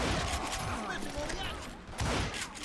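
Rapid gunfire from the Western shooter game Call of Juarez Gunslinger, a dense run of sharp cracks and volleys close at hand, mixed with someone speaking.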